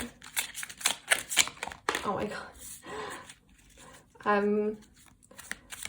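Tarot cards are shuffled by hand in quick bursts of papery riffling and slapping, with a voice breaking in briefly partway through.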